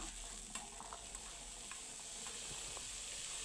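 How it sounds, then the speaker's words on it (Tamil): Small onions and chopped tomatoes sautéing in oil in a kadai, a soft continuous sizzle with occasional light stirring scrapes, quiet and steady with no voices. "இப்போ நம்ம உரித்து வச்சுருந்த சின்ன வெங்காயத்தை அதில் போட்டு அது கூட நம்ம கட் பண்ணி வச்சுருந்த தக்காளியும் சேர்த்து நல்லா ரெண்டையும் வதக்கிக்கலாம்"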